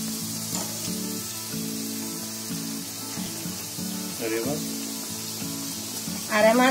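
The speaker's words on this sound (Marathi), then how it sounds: "आरामात तळून घ्यायचे." Samosas deep-frying in a pan of hot oil give a steady, close sizzle and bubbling that swells near the end, with faint clinks of a utensil.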